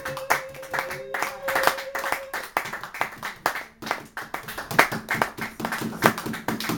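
Congregation clapping hands in praise during a French-language church service, a brisk rhythmic run of claps with brief pauses, fairly close, with faint voices.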